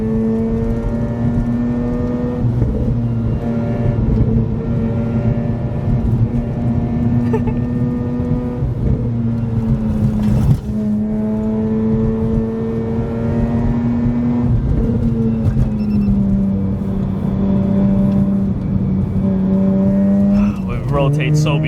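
A Mazda RX8 rotary engine revs and drones loudly from inside the car during heel-toe downshifts, with pitch dropping and blipping back up several times as gears change, steady and close throughout.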